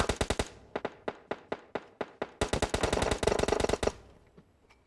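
Automatic weapon fire in the video game PUBG Mobile arrives as rapid bursts of loud, sharp shots. They start as spaced volleys, then become a dense continuous stream before trailing off, with no voices.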